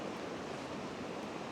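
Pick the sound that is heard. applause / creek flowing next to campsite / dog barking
creek flowing next to campsite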